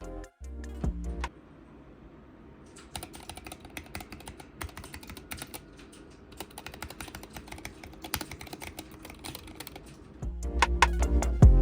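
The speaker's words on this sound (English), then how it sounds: "I have red switches, and this is how that sounds." Fast typing on a mechanical keyboard with red switches, a steady stream of soft, close keystrokes, with louder clunks at the start and end.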